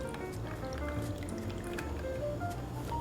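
Cocktail liquid runs and drips into a glass while a Ruby Fizz holiday drink is made, a soft, close trickle with gentle splashy bubbling and faint background noise.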